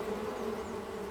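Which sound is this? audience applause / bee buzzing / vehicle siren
bee buzzing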